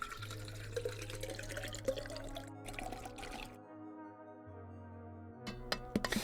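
A water bottle being refilled, with a gurgling, trickling pour that runs for a few seconds, stops, then resumes briefly, faint and close, over a steady low hum.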